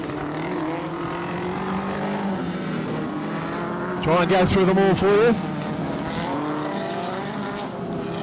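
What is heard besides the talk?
vintage speedcar with Yamaha YZF1000 motor racing on speedway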